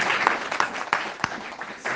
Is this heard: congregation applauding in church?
yes